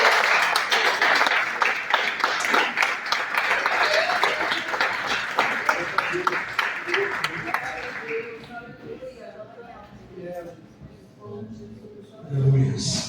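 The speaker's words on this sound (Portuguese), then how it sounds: "as palmas engrandecem todo o Senhor" A church congregation claps in praise during a worship service, a dense run of hand claps for several seconds that thins out and gives way to voices speaking.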